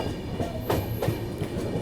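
The Barauni–New Delhi Clone Special train running at about 130 km/h on the third line past Khurja: a steady rolling rumble and wheel clatter with a brief high metallic squeal near the middle.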